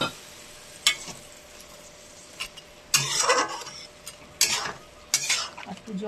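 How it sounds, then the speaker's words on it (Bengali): Water goes into a pan of cooking fish. Several bursts of hissing, bubbling sizzle rise over a low background, with scraping and stirring between them, close and moderately loud. "এবার জল দিয়ে দিচ্ছি।"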